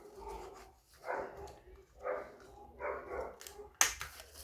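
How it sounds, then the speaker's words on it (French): Dogs barking outdoors, heard faintly indoors as four or five muffled, evenly spaced barks under quiet room noise, with a sharp click near the end. "Oh là là, il y a les chiens dehors."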